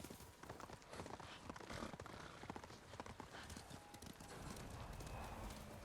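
Horse hooves clop at a gallop in the samurai action game Ghost of Tsushima, a steady rapid patter running throughout under busy game sound, with a brief whinny and faint voices.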